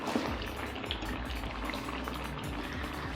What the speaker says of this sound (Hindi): इनको अच्छी तरह से भूनेंगे